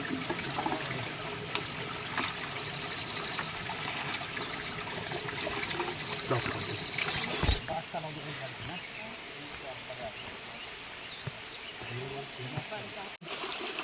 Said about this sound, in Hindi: जहाँ पर पानी वगैरह कहीं पर स्रोत का पानी निकलता है तो उसको हम सिलवानी बोलते हैं।